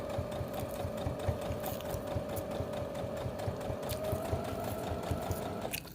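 Sewing machine stitching down both sides of a homemade fabric face mask, a steady fast needle chatter with a constant motor whine running close and even for several seconds before stopping abruptly.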